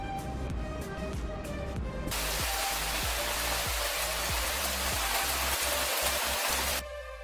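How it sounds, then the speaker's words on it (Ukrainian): Steady autumn rain falls as a loud, even hiss across several seconds, beginning abruptly after a short musical passage and stopping just as suddenly near the end. "часто йдуть дощі"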